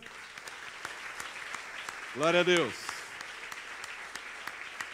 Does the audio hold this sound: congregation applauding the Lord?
yes